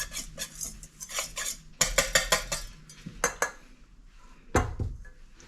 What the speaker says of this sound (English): Just mix it nice and get it all combined in here.